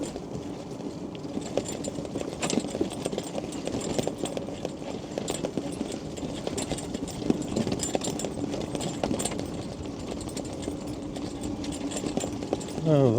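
A Quingo mobility scooter drives steadily outdoors, giving a continuous low electric motor whir and rolling rumble with faint rattles, moderately loud and unbroken for the whole stretch.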